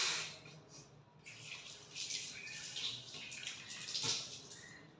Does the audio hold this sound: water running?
yes